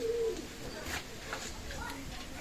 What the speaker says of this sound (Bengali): চমৎকার টেডি কবুতর